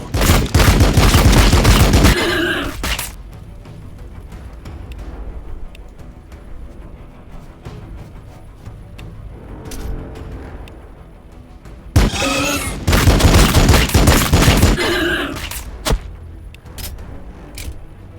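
Soldiers firing in Warhammer 40K Battlesector: two loud bursts of dense gunfire open and near the end of the stretch, with quieter scattered shots and battle noise between them.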